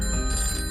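Telephone bell rings in a short, bright trilling burst, loud and close, lasting under a second.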